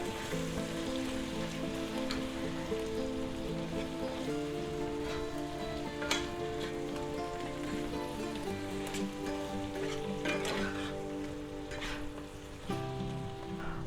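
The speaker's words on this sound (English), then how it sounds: "let's mix that in and melt our butter" Butter melting and sizzling with onions and mushrooms in a pan, a continuous close crackle and hiss like rain, with a steady tone underneath.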